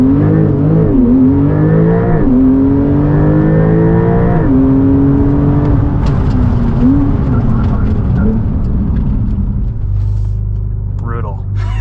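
A 2021 Porsche 911 Turbo S in Sport Plus making a launch-control start, heard from inside the car: a loud engine climbing hard through several rising gear pulls with brief shift dips, then settling toward the end.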